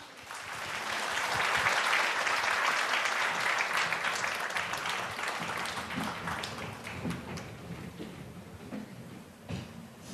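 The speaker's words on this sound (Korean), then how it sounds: "큰 박수로 맞아주십시오" Broad, sustained audience applause at a Korean Disabled Persons' Day ceremony greeting a breakdancing performer, swelling early then easing and thinning toward the end with a few scattered claps.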